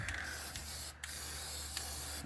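Close, continuous aerosol spraying with irregular sputters and one short dropout midway as the can falters.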